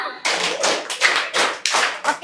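Several rounds of hand clapping from a group, in short bursts with brief pauses between them, loud and close.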